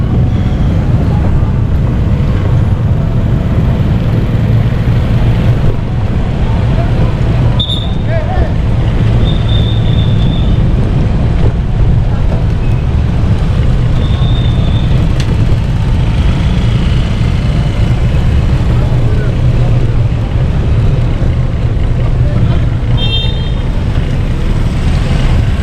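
A motorboat engine drones loud and steady through flood waters, a constant low rumble with water wash, while people talk over it throughout.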